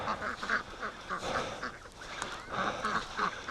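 Geese honk among a flock of free-range ducks, loud overlapping honks and quacks that repeat steadily and close by throughout.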